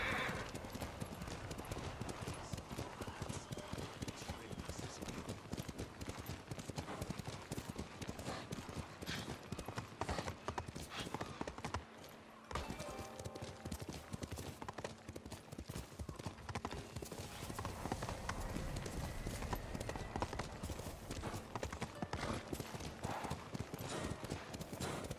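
Horse hooves clip-clop steadily through a dense, busy game soundscape in Ghost of Tsushima, with a brief drop in activity midway.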